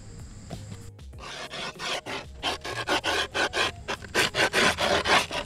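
A skateboard deck being rubbed flat by hand into its concave during a board setup, a series of loud rhythmic rasping strokes that speed up and grow stronger, close up with no talking.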